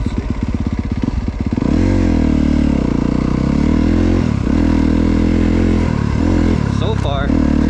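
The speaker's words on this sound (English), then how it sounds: "starts up nicely, revs. I love the way the bike sounds." A 2024 Honda CRF250RX four-stroke dirt bike sputters to life and then holds a loud, close engine note, with several blips of the throttle that swell and drop.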